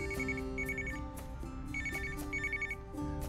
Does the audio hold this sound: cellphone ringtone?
yes